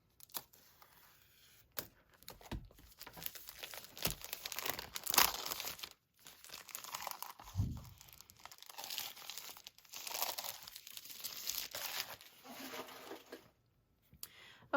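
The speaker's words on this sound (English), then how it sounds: "I'm going to just use some scissors to open it up." Close crinkling and rustling of a paper-crafting kit's plastic packaging being cut open with scissors, snips and tearing sounds, irregular and fairly quiet, with short pauses between bursts.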